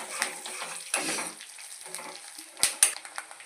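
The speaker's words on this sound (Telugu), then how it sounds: "జీలకర్ర ఎండుమిరపకాయలు బాగా వేగనివ్వాలండి" Cumin seeds and dried red chillies frying in oil in a pan give a light crackling sizzle with scattered pops and stirring clicks, fairly close and soft.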